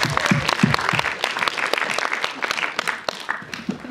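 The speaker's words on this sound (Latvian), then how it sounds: "Aplausi jums pašiem" An audience at a pre-screening film presentation for Pacific Rim bursts into lively, sustained applause, with many hands clapping densely and unevenly from start to finish.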